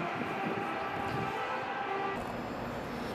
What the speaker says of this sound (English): I'm gonna hop on the train after this one that just got in right here